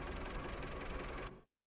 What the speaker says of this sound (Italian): Dispiega carrellone, calmi giù le rampe